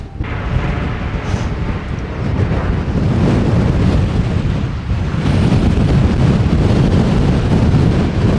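Strong wind batters a camera microphone outdoors, producing a loud, continuous rumbling roar with gusty surges throughout, the blustery buffeting dominating everything with no voices heard.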